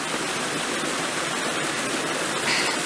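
A small waterfall seen side-on pours in a steady, hissing white rush, close and continuous with no breaks and no voices.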